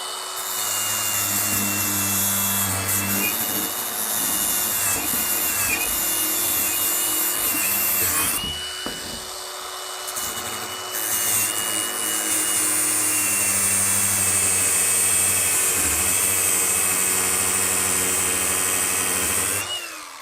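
A Milwaukee M18 cordless 125 mm angle grinder with a flat-head gearbox runs under load with a loud, continuous high whine and grinding. The sound dips briefly partway through, then returns to full strength, and no one speaks.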